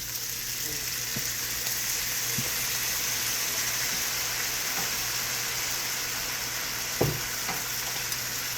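Ham glazes in a pan with butter-flavored syrup, giving a loud, continuous close sizzle and frying hiss with a few small pops and clinks, and no talking.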